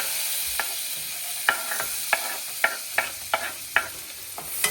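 Vegetables such as capsicum, garlic and carrot fry and sizzle steadily in a pan, with a spatula scraping and stirring in a string of distinct strokes over the continuous hiss.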